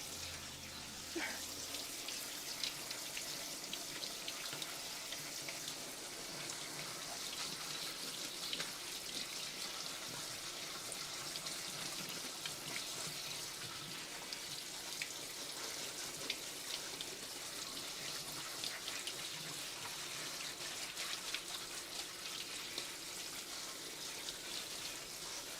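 Cold tap water running steadily over cooked pasta in a kitchen sink, a continuous faint hiss and splash that holds constant throughout.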